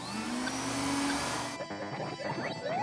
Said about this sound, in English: Remote control vacuum system on.